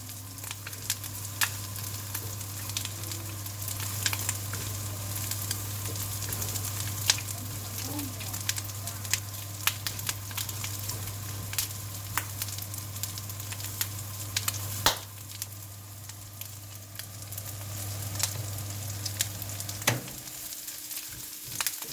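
Onion sautéing in a pan gives a continuous close sizzle over a steady low hum, with occasional faint clicks and scrapes and no clear talking.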